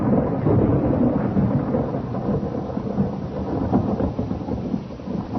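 Heavy rain pours down amid rolling thunder for a horror audio drama scene of grave robbers at a coffin in a lonely rustic graveyard at night, a dense, loud, continuous rumble and wash of downpour with no voices.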